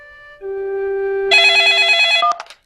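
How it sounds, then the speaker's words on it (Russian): A telephone rings in a cartoon scene, a bright electronic tone shifting into a loud warbling trill, close and clear, then cut off abruptly. "Пеппа, тебе звонит Сьюзи"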